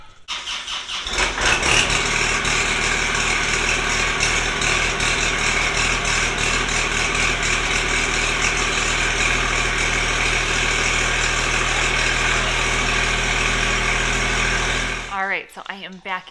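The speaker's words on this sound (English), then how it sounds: "So he's just running the tractor just to get it on," A tractor engine idles loudly and steadily for a long stretch with a low rumble, then stops abruptly near the end.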